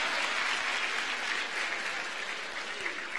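Dense, steady applause from a school assembly audience in a hall fills the whole clip, heard at moderate distance with no talk over it.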